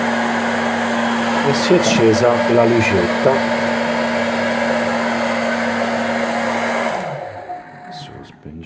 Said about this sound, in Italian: eccola là che parte il phon ogni tanto